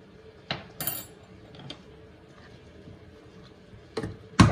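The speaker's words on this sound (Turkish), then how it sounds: "Tenceremin kapağını kapatıyorum." A lid is set onto a cooking pot of madımak stew with pastırma, a few faint, sharp metallic clinks scattered across a quiet kitchen, with the last two taps louder and closer together.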